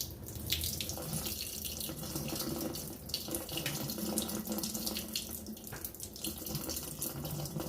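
A kitchen tap runs while rice is rinsed, making a steady close splashing flow with uneven gurgles and bursts as water hits the grains and the pot, and no one speaks.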